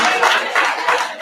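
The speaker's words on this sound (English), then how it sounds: "Let's give all our contestants a round of applause." Brief burst of audience clapping for mayoral candidates at a forum, loud and close, with a rise and fall in intensity over about a second.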